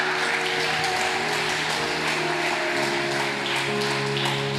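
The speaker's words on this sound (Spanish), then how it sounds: "No sé si vas a aplaudir, apláudelo" A church congregation applauds during a Spanish-language Christian sermon, a dense steady wash of clapping that holds evenly throughout, with a sustained tonal hum from instruments or the sound system beneath it.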